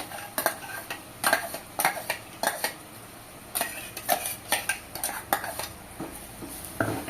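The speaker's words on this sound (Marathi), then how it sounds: "मिक्स करून घेऊया एक मिनिटभर आपण हे परतून घेऊया" Ground masala paste for chana bhaji being stirred and sautéed in a pan, a rhythmic series of spoon scrapes and metallic taps against the pan with a soft sizzle underneath, close, no talk.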